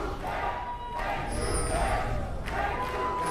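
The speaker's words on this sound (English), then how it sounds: "We know where the crowd's allegiances lie, Crepo." An esports arena crowd at a League of Legends EU LCS match roars and chants in rising waves, loud and reverberant, with a commentator talking over it.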